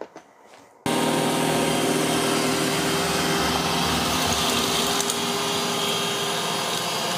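An iRobot Roomba Combo j5+ robot vacuum switches on after a brief quiet moment, then runs with a steady loud whirring hum and faint brush rattles throughout.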